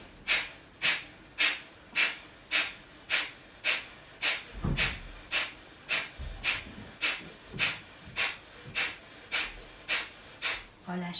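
Deep nasal inhalations during yoga alternate nostril breathing, about twenty even, rhythmic breaths close to the microphone, with a brief low voice murmuring midway.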